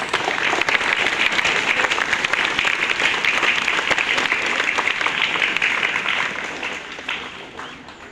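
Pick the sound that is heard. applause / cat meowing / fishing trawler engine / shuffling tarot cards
applause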